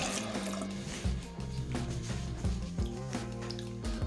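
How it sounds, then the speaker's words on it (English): Running water splashes as a face is rinsed, an irregular close-up patter of handfuls of water and drips over a steady tap flow. "Then we just rinse it off."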